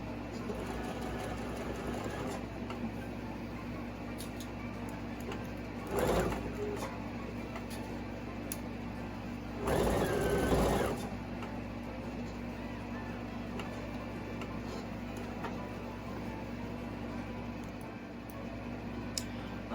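Sewing machine stitching a narrow seam on a vintage Simplicity 8593 garment, a low continuous motor hum with faint rapid ticking, close and steady, with two brief louder bursts partway through.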